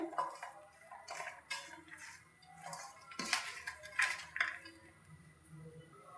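Chopped coriander, cabbage, green peas and spinach being stirred together in a bowl for muthia dhokla, with soft scraping and clinking of a spoon against the bowl in quiet, irregular strokes, fairly faint and close.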